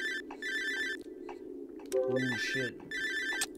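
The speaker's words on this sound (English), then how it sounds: "My phone's ringing." A phone rings in the horror video game Cry of Fear, with repeated electronic ring bursts separated by short gaps. A man briefly swears between the rings.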